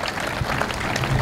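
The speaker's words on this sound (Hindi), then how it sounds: "एक बार आप इनके लिए सम्मान में तालियां बजा देंगे" Brief applause from the audience at a Hindi comic poetry gathering, a short burst of clapping in a hall, somewhat distant and muffled.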